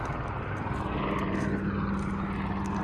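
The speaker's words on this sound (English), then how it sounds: "I've got an Apache gunship, just making sure we're doing the job right today." An Apache gunship helicopter flies over a remote site, its continuous rotor and engine roar steady and fairly loud throughout.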